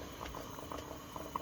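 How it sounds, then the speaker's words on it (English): Water boiling in a coffee maker at an outdoor bushcraft camp. A steady, close bubbling and gurgling rolls on throughout, with a few brief louder pops near the end. "it is actually boiling the water"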